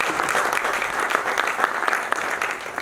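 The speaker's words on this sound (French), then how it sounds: "Donc, je vous prie d'applaudir." A seated audience at a professional meeting gives steady, dense applause throughout, a continuous wash of many hands clapping without any speech.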